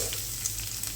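Chopped onions and curry leaves fry in hot coconut oil for an egg thoran, giving a steady, close, even sizzle with faint stirring and no talk.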